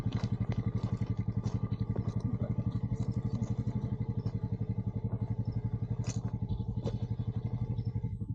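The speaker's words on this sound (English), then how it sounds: "Keep the motorcycle running." A motorcycle engine idles close by in a city street with a very steady, rapid thumping pulse and light mechanical clatter throughout, loud and alone with no talking.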